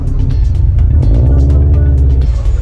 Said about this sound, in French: Et enfin, Jeep et Jeep Willys.